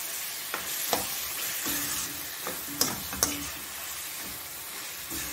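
Chicken pieces stirred in hot oil for a simple chicken curry, a steady sizzle broken by several sharp spoon knocks and scrapes against the pan.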